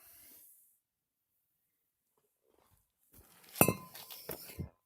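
A brake disc comes off a Peugeot 508 after a long quiet stretch, ending in a quick cluster of close metallic clinks, clanks and scrapes.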